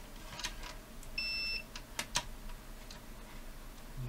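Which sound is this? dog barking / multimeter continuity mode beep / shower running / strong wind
multimeter continuity mode beep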